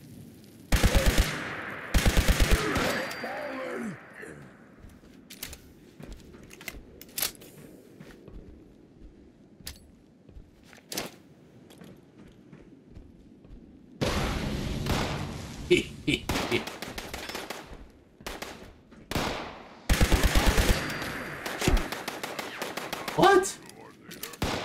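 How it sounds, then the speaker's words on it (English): Gunfire in the Fallout 76 video game crackles in scattered, distant-sounding bursts, some louder rapid volleys, under a player's occasional talk and game ambience. "Where are those shots coming from?"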